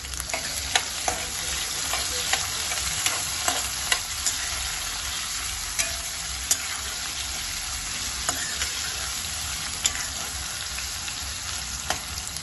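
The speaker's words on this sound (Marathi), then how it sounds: "नंतर थोडंसं बटाटा फ्राय झाला की त्याच्यामध्ये मी घालणार एक टोमॅटो बारीक चिरलेला." Potatoes sizzle steadily in a pan, a dense continuous frying hiss broken by frequent faint clicks and pops of stirring, close and alone without voices.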